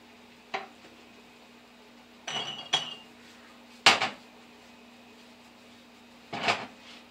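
Hot glass canning jars and metal lids for apple butter clink and knock in a few separate, sharp bursts against a quiet room, with no voices.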